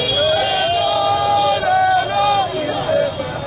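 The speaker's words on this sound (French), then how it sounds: "foule de gens en colère devant le siège de la MONUSCO et certaines ambassades, cris et chants hostiles" Angry crowd of protesters outside the MONUSCO headquarters and embassies in Kinshasa, a dense continuous roar of shouting and hostile chanting with rising and falling voices, loud and close throughout.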